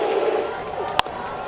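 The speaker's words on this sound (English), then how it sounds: "Dodger fans booing." Dodger fans booing in a baseball stadium, a broad sustained crowd roar, with a sharp crack near the middle and a commentator's voice over it.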